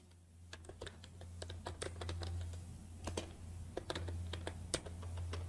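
Typing C++ code on a computer keyboard, a steady stream of rapid key clicks close by, layered over a constant low electrical hum, with no talking.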